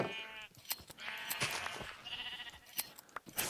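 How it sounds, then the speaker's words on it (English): Sheep bleating in Minecraft, several sharp bleats from multiple animals in quick succession with crunchy in-game clicks between them. "we need a lot more sheep in that area"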